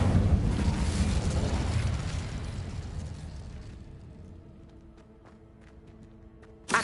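An Incendio fire spell cast in Hogwarts Legacy on PS5, a loud roaring whoosh of flame that fades slowly over several seconds, followed by faint clicks and a sudden burst at the end.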